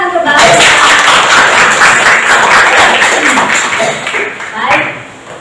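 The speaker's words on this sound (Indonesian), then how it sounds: "Tepuk tangan untuk Mbak." A classroom group claps for a student after her presentation, a dense burst of hand clapping that swells, then thins and fades, with a brief flurry near the end.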